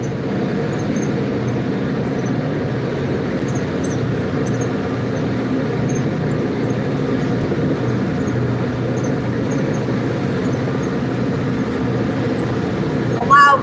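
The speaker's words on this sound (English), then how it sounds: "Here comes our first train" A loud train rumbling steadily past, a continuous low, droning roar that holds throughout with a brief sharper sound at the very end.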